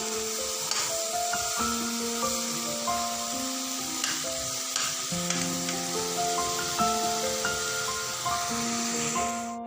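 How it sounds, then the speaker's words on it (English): Mushrooms and baby corn stir-frying in a pan give a steady, close sizzle with light stirring scrapes, running throughout beneath a bed of background music. "I'm just going to stir fry and put off the gas."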